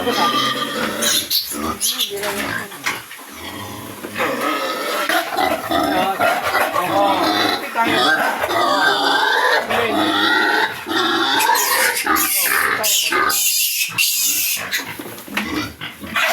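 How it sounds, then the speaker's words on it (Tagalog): Piglets on a small mini farm grunt and squeal continuously at close range after being moved into a new pen, with people talking over the animal noise throughout. "So, itinransfer na ni Joel yung mga biik muna rito."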